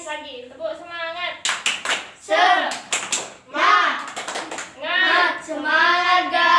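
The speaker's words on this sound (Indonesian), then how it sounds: "Lagi, tepuk semangat." A fourth-grade class of schoolchildren repeats the rhythmic 'semangat' clapping routine: crisp, close patterned claps in quick groups, between and under the children's energetic shouted chanting.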